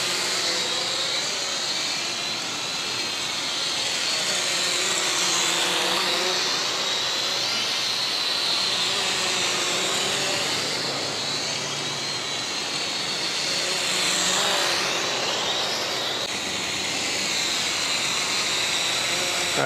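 An Eachine E511 drone, a Mavic Air clone, flies close by, its motors giving a loud, continuous high-pitched buzz that rises and falls in pitch as it maneuvers.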